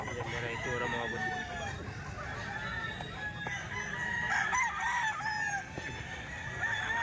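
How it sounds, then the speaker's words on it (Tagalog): Chickens and roosters at a crowded cockfighting market on a rainy Sunday in Grotto crow repeatedly and cluck over a constant crowd murmur, with several birds calling at once from close by. "ang daming manok"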